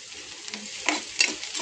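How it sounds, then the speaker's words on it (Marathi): Onions and slit green chillies frying in a pan for a prawn curry, a brief soft sizzle with a couple of quick stirring scrapes, no talk. "तर कांदा पण फ्राय होत आलाय चांगला, आणखीन फ्राय करू थोडा।"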